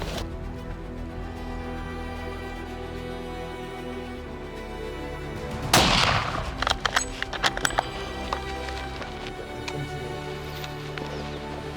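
A rifle shot fired while hunting cape buffalo in the open bush: one sharp, loud crack midway through a quiet outdoor background, followed by a few fainter cracks and rustling.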